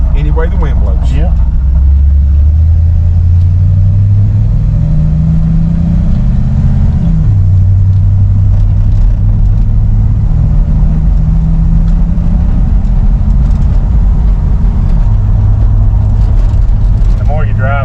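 Square-body truck engine rumbling steadily as it drives, with pitch rising and dropping through gear shifts, continuous and close, while people talk over it throughout.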